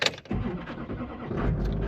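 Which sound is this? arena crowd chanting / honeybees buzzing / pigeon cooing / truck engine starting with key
truck engine starting with key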